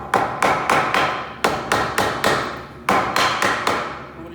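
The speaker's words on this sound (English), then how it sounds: "So we're going to use this plastic-based hammer." A hard plastic hammer taps glued wooden table legs flush in quick bursts of two to four sharp knocks, separated by short pauses, close and loud.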